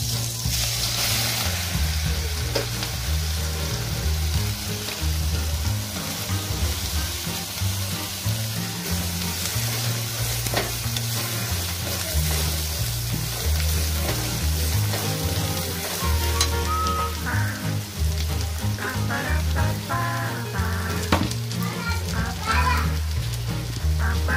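A ground paste of garlic, coconut, coriander and cumin fries in hot oil for a spicy green gram curry, a loud, constant sizzle with stirring and crackling throughout, while indistinct voices murmur in the background.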